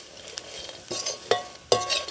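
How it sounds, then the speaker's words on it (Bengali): Dry fruits and spices are stirred in a pan with Kashmiri chilli powder, chaat masala and turmeric, giving a soft sizzle under a few sharp scrapes and clinks of the spoon against the pan. "এবার এর মধ্যে আমি দিয়ে দেব কাশ্মীরি লঙ্কার গুঁড়ো, চাট মশলা আর হলুদ গুঁড়ো দিয়ে আবার একটু ভেজে নেব।"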